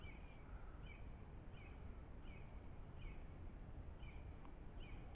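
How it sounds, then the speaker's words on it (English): Repeated short bird chirps at a steady pace over a constant outdoor hiss, fairly faint and somewhat distant, on a trail at Purtic Creek State Park. "You can hear the birds singing."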